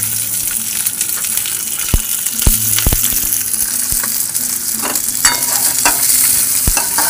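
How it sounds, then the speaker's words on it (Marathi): Chopped onion sizzles and fries in a pan with ginger and garlic for a vegetable manchurian, loud steady frying with sharp clanks and scrapes as a spoon stirs, close by. "आता याच्यात आपण कांदा टाकू."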